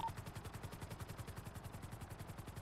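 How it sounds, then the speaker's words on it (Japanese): Police helicopter in a GTA roleplay server, its rotor beating in a steady fast rhythm over a low engine drone, continuous and fairly close, with no talk over it. "後ろの警察ヘリ見える？"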